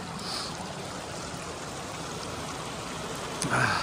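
Steady broadband rush of a mountain stream flowing near Dudh Pokhari, Ramechhap, continuous and fairly close, with a brief louder splash near the end.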